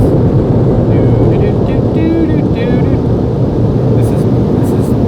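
Loud air blowers run steadily as a dense, unbroken roar with no pauses, like heavy wind or engine noise.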